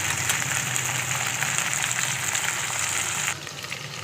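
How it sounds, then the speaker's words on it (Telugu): Okra and green chillies frying in oil for a roti pachadi, a steady close hiss of sizzling that runs unbroken and drops slightly in level near the end, with no voices. "బెండకాయ, పచ్చిమిర్చి బాగా నూనెలో మగ్గించుకోవాలి"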